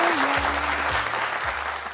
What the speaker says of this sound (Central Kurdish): زۆر سپاس بۆ چەپڵەکانتان